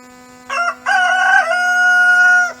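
A rooster crows loudly and close, one long drawn-out cock-a-doodle-doo with a brief break near the start, over a steady low electrical hum.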